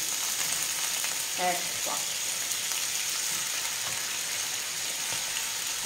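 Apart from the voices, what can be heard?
tuna crackling while frying in pan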